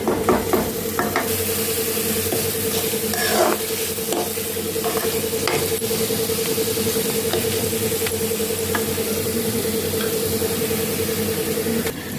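Ground masala paste with peanuts fries in oil in a home kitchen pan, a loud, continuous close sizzle with scraping stirs and knocks early on.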